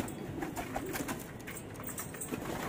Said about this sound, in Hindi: ये एक और हमारी मजाकी कबूतरी है